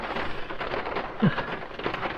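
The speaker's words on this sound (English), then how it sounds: "Supposedly this rain should pass through here in about 10-15 minutes" Rain falls steadily outside a camper van in a New England state forest, a soft continuous patter with one brief low thump, no talk.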